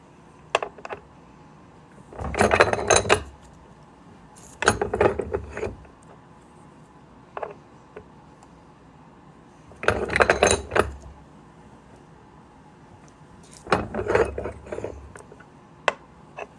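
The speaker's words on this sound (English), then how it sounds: "we're going to reduce this in the Swedish wrap now" Metallic tapping and clinking bursts as a 1964 half dollar coin ring is reduced in a Swedish wrap, four or five close, moderately loud clusters separated by quiet pauses, with a few isolated light taps between them.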